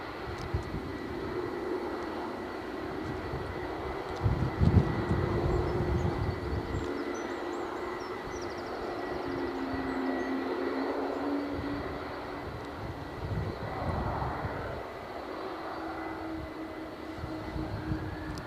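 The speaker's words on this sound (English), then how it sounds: "Plane on shot, off to Boston" An airplane departs Edinburgh Airport bound for Boston, a low, distant engine rumble that swells and fades gently and is heard alone at a moderate level.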